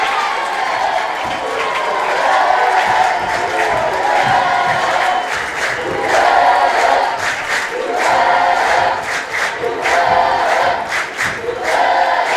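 A live crowd at a judo world championship final cheers and roars steadily across the whole stretch, with loud swells of shouting and applause from the arena audience and no clear speech.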